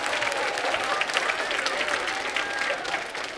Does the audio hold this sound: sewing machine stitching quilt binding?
no